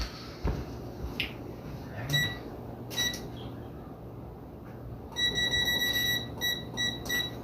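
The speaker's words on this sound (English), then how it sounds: "Get my timer set." A kitchen timer is set while baking pie, giving short high beeps in scattered clusters, sharper runs toward the end, over quiet kitchen handling sounds and a low background hum.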